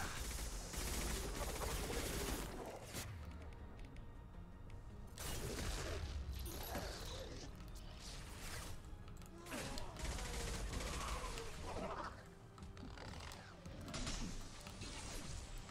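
Heavy gunfire in the video game Mass Effect: dense, loud, continuous volleys of shots and impacts crackle without pause, with a brief dip before the barrage resumes.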